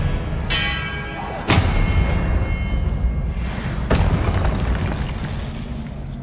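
A spell cast in the Hogwarts Legacy video game: sharp magical bursts and booming impacts sit over a dense, steady game soundscape, with two strong hits standing out among smaller flares.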